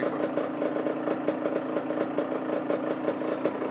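A scooter engine idling low and unevenly, close to stalling, with a steady close putter and a slightly irregular beat, heard on its own throughout.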